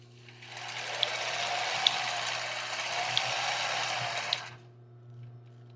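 A sewing machine stitching a tulle and lace bra runs in one steady, close whirring burst of about four seconds with faint periodic clicks, then stops, leaving a low hum.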